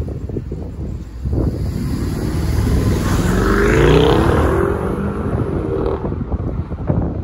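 A BMW 650i with a twin-turbo V8 heard from inside while driving, its engine note swelling and rising through acceleration then easing, steady road and wind noise throughout with no talking.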